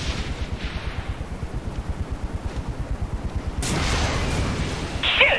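Rapid rhythmic automatic gunfire in the Saints Row: The Third video game, then a surging whoosh and blast as rockets fly in, loud and dense with no talk.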